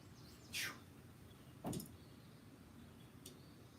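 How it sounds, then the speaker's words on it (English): Soft ambient birdsong recording playing from an iPad in a quiet room, with a few brief, faint chirps spaced apart over low background hiss. "I forgot I was playing like this soft ambient noise on my iPad."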